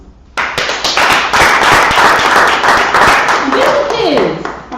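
An audience bursts into sustained applause for fathers at a talk show taping, with dense, loud clapping that builds quickly and holds steady, while voices talk and cheer beneath it.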